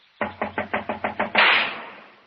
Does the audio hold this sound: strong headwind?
no